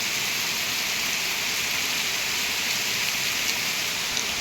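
Heavy rain pours in a dense, steady hiss, loud and unbroken throughout, with no voices or other sounds standing out.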